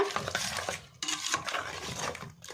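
Spoon stirring jaggery into sun melon juice in a kitchen vessel, close, soft scraping and light clinks in quick irregular strokes, with a brief pause partway.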